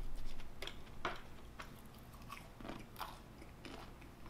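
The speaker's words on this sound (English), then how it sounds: "There was not a lot of crunch on that one." Biting and chewing a Popeyes fried chicken tender up close: soft, quiet crunches and moist chewing clicks in an irregular rhythm, with no talk.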